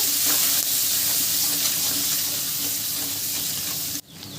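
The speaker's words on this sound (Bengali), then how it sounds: "মশলাগুলোকে হালকা করে একটু নাড়াচাড়া করে নেব।" Masala with ginger paste and green chillies sizzling and frying in a pan, a steady close hiss with faint stirring scrapes that drops off abruptly near the end.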